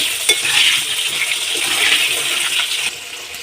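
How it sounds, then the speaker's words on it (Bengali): Potatoes frying with salt in a pan, stirred: a steady close sizzle with scraping strokes and a few clinks of the utensil against the pan, no voices. "লবণটা দিয়ে একটু নাড়াচাড়া করে আলুগুলো ভেজে নেব"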